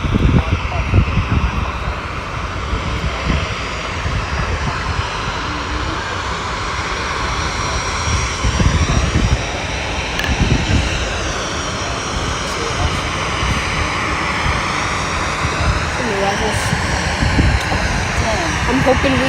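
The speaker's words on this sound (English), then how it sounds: "737-700. Taxiing for departure back to New Haven, Connecticut." A Boeing 737-700 airliner taxiing for departure at Fort Lauderdale airport, a steady broad jet engine roar throughout, moderately close, with people talking intermittently over it.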